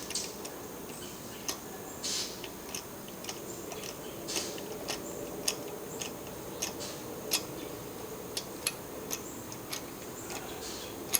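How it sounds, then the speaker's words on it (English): An 85 foot-pound audible torque wrench clicks repeatedly while lug nuts are tightened back onto a wheel, a series of faint, sharp ticks spaced irregularly over a low background hum. "put an 85-pound audible torque wrench on it. Tighten it back up."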